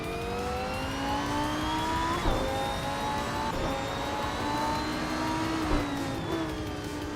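A Lamborghini Huracan Super Trofeo race car in a video game launches off the line, its engine droning and rising in pitch with brief gear-change dips, a steady loud roar with no talk.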